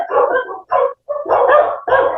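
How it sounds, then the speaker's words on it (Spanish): Several excited dogs bark in rapid bursts, loud and close, with short gaps between the volleys of barks. "aquí se pusieron como locos los perritos"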